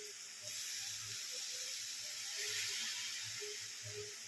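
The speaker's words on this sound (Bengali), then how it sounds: "দুধটা ঢেলে দেবো।" Milk hits carrots frying in ghee for carrot halwa, setting off a steady, close sizzling hiss that swells slightly and keeps crackling softly throughout.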